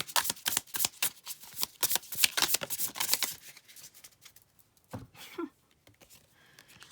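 A deck of shaman oracle cards is shuffled close by in quick, crisp riffling bursts for about three seconds, then goes quiet apart from a couple of brief soft taps and rustles.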